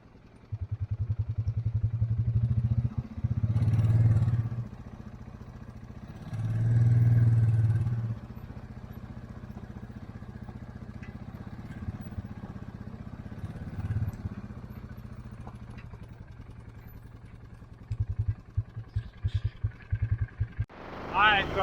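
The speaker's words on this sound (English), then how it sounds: "I decided to get on the tractor with the disc, put BJ up for a minute." A tractor hitched to a disc harrow runs with a steady low engine drone, swelling twice into louder rumbling surges and ending in rapid clattering pulses, while someone talks over it.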